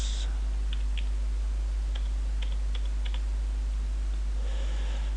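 Typing on a computer keyboard, a string of quick light key clicks in small bursts over a steady low electrical hum, with a few clustered taps near the end.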